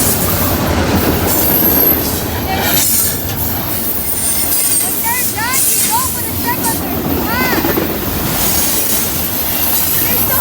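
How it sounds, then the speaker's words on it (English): A train rolls past on railroad tracks close by, loud and continuous with rumbling wheels and high squealing from the rails; someone speaks briefly underneath the noise. "Here comes the train."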